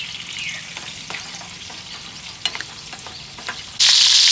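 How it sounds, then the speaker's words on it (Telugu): Tomato pieces for jujube chutney fry in a pan with a steady close sizzle, broken by scattered stirring clicks and taps, until a sudden loud burst of spitting hiss at the end. "ఈ టమాటా ముక్కలు బాగా వేగాలి ఫ్రెండ్స్"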